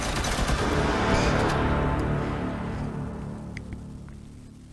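Tachanka's minigun in Rainbow Six Siege fires a loud, unbroken rapid stream of rounds up close, then trails off into fading echoes and scattered faint clinks, with no one speaking.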